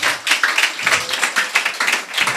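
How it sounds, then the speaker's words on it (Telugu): A church congregation claps in a quick, irregular patter of many hands, fairly close and steady for a couple of seconds with no one speaking over it. "చప్పట్లు కొడదాము గాక"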